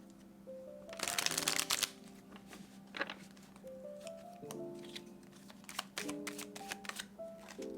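Tarot cards shuffled by hand in quick, crisp riffling bursts, close and fairly quiet, with a soft musical tone playing underneath.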